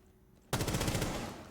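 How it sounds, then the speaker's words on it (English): Gunfire in a Rainbow Six Siege match bursts out suddenly after a quiet moment, a loud, rapid automatic volley that keeps rattling to the end. "Oh, bit of gunfire coming out from Sharp."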